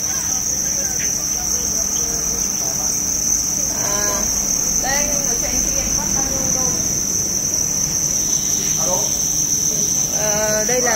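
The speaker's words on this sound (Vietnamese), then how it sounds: "Đây là thùng dế sinh sản này" Crickets in a breeding box chirp steadily, a dense continuous high-pitched trill running close and loud throughout, with faint scattered voices and background noise beneath.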